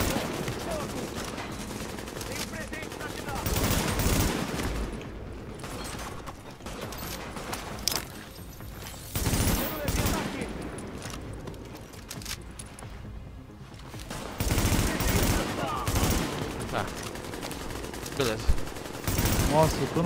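Gunfire in The Division during an online co-op firefight: repeated bursts of automatic shots come and go over about twenty seconds, loud against a busy game background, with players talking in Portuguese between the volleys.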